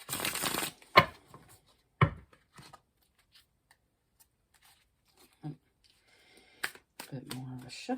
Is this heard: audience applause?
no